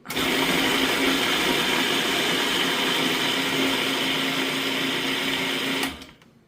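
Food processor running in one continuous loud burst for about six seconds, coarsely crushing mixed vegetables for a raw mango aviyal, then stopping abruptly with a short fade.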